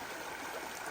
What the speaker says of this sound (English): beautiful little creek right here that we're crossing